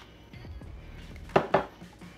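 Matcha being stirred into a half cup at a Dunkin' Donuts counter: soft scraping clinks of a utensil against the cup, followed by two sharper, louder knocks close up.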